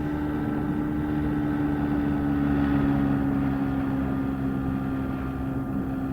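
A fisheries protection vessel's engine drones steadily at sea in a radio drama, a continuous low rumble with a faint higher whine, even and unbroken throughout.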